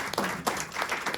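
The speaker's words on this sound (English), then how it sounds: "I want another huge round of applause to our previous laureates" Audience applause in an indoor gathering honouring past Malibu poet laureates, a dense patter of many hands clapping throughout, moderately loud and close, with a few stronger bursts.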